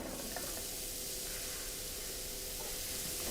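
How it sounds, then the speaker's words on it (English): Onions sautéing in olive oil in a pan give a steady, close sizzle and hiss that holds evenly throughout with no talk. "I'm just gonna saute them together."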